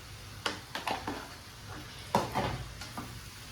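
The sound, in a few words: stirring fish curry masala in a pan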